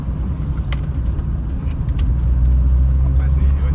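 A light Volkswagen Golf One GTI with a small 1.5-litre engine drives along, its steady low engine drone and road rumble filling the cabin, rising slightly in level partway through while people talk over it.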